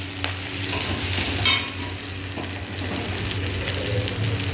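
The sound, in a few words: spice pastes being fried and stirred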